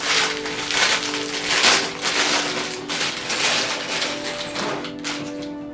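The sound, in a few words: plastic bags being unpacked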